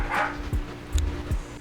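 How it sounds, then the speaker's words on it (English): Dogs barking indoors, a few short soft woofs spaced apart in the background, fairly faint and close by. "Excuse the dog or dogs."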